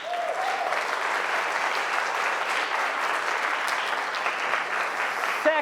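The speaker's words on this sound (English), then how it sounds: "let's give all of our finalists a big round of applause" A conference audience applauds the finalists of a Three Minute Thesis competition, a sustained, even wave of clapping from a large crowd that fills the room for several seconds.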